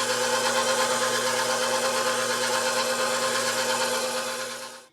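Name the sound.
mixer beating cream cheese filling for cheesecake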